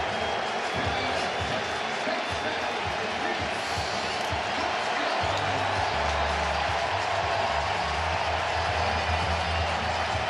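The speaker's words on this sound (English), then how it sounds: "We'll let that ovation from this crowd wash over him" A baseball crowd at the 2022 NLDS Game 3, Braves vs Phillies, gives Hoskins an ovation after a hit-by-pitch brings him up: a sustained, loud roar and cheering filling the stadium, with announcers talking over it.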